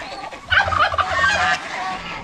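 Farmyard geese honk repeatedly nearby, loud nasal calls overlapping in a short chorus with a low background hum.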